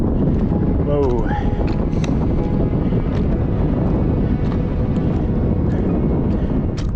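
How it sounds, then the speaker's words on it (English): Strong wind roars over a High Sierra mountain summit, a loud, steady buffeting rush that fills the whole clip, with a person's brief voice sounds mixed in. "I can hear the wind coming over this right here."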